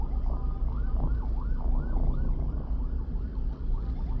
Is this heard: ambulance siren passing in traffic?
yes